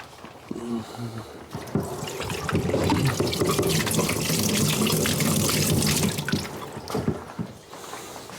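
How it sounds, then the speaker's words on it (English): Water running from a tap with rinsing at a sink while making a rum wash, a steady broad splashing rush through most of the clip, with brief talk near the start and clattering at the end. "let me rinse that off"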